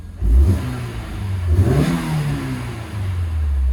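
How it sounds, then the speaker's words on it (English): A Honda S2000 sports car engine gives a quick rev, rising to a throaty burst and then easing back down to a steady, rumbling idle. "give it a little rev."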